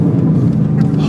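Car engine and exhaust fitted with stainless steel resonators, a steady deep low rumble heard from inside with the windows up, continuous for about a second.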